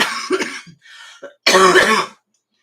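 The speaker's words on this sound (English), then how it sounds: "So my cough still sounds about the same." A person coughs and clears their throat close by, a few short rough bursts followed by one longer harsh cough, then silence.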